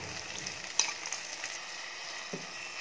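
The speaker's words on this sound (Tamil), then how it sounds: "நம்ம அரைச்சி வச்ச மசாலாவை இப்போ இதில் சேர்த்து நல்லா வதக்கி விடலாம்." Ground masala with shallots and turmeric fries in oil, a soft, steady sizzle with faint stirring clicks, quiet and close with no talking.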